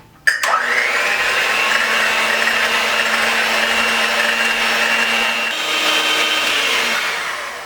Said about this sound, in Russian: И взбиваем до нежной пенки